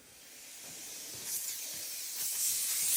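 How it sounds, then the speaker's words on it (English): Compressed air blown through a graphite golf shaft, a close, breathy hiss that builds steadily over three seconds with a couple of stronger surges. "I'll run some compressed air through there to make sure"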